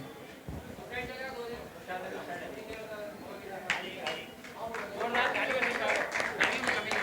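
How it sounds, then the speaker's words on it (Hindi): Applause from an audience at a Lions Club Bhopal eye-camp closing and honours ceremony, a dense patter of many hands that swells in the second half over a murmur of voices. "तालियों में कोई कमी ना छोड़ें।"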